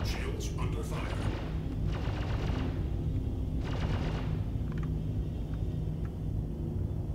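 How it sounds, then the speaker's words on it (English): A base turret fires at the player's craft during a box delivery mission in a video game, in three short rattling bursts over a constant low engine drone. "That's basically going to prevent the turret from hitting us."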